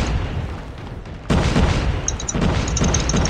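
Battle noise from the mobile shooter Call of Duty Mobile, with a sudden loud boom about a third of the way in, followed by sustained rumbling blasts and gunfire-like crackle that stay loud to the end.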